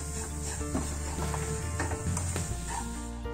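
Semolina roasting and being stirred in a pan for chocolate halwa, a steady close sizzle and scraping rustle that continues without pause.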